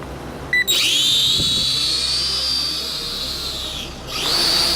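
An X5-C quadcopter drone with an HD camera spins up for takeoff with a high, steady motor whine close by. The whine rises and falls in pitch, dips briefly and then surges again, with no talk.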